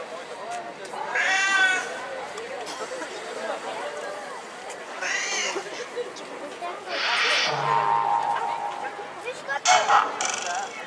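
A cat meows several times, with a drawn-out plaintive cry among the calls, mixed with speech and other background sounds.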